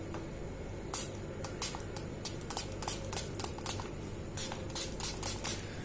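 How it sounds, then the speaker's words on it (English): A household spray bottle is pumped in short, crisp bursts against house doors, single squirts followed by a quick run of rapid sprays, close by in a quiet room. "So after spraying it everywhere,"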